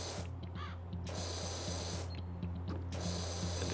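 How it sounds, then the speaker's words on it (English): Pressure washer spray from the Powerwash Simulator video game, arriving as loud, hissing bursts of water that start, stop and start again over a steady low mechanical hum. "we can probably get away with just doing one spray like this"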